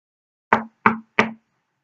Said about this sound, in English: A knock came at Audrey's door.